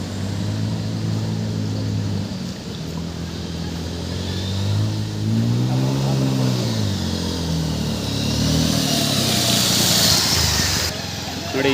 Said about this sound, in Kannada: ನೋಡಿ ಇದರಲ್ಲೂ ಬೈಕ್ ತಗೊಂಡು ಬರೋರಿದ್ದಾರೆ.